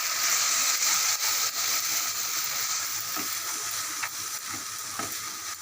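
Ground chickpeas being stirred into an oily masala in a frying pan, a steady sizzle and fry under repeated scraping strokes of the spoon, close and continuous with no talking.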